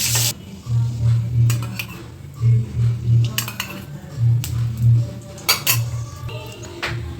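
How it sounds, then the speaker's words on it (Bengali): Fried duck eggs lifted one by one from a pan of hot oil, with repeated metal utensil scrapes and clinks against the pan over a low sizzle. "এবার আমরা এক এক করে ডিমগুলো তুলে নিচ্ছি।"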